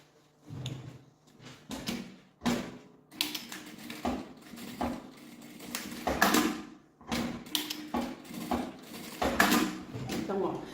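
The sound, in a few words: sewing machine stitching a seam on a sling bag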